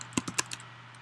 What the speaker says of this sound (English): let's type in a new print statement that will say